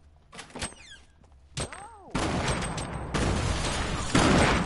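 Gunfire in Fortnite Battle Royale, scattered shots and thuds at first, then a dense, sustained barrage of rapid fire that grows louder toward the end, with game sound effects mixed in.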